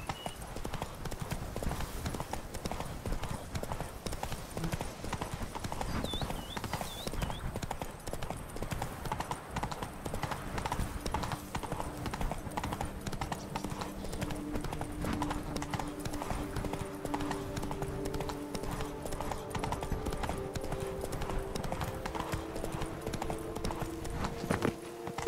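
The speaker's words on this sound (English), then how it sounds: "Run, Roach" Hooves pound rapidly and continuously as a horse gallops in The Witcher 3 video game, a dense, even clatter that runs throughout beneath faint background game sounds.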